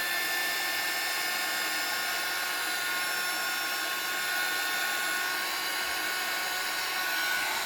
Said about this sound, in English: I'm just going to dry this off using my heat tool.